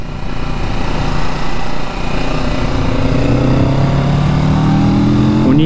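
Loud, close engine noise from a Kawasaki Z650 RS twin-cylinder motorcycle, rumbling steadily and then revving upward toward the top of its range at the end, heard alone without any talking.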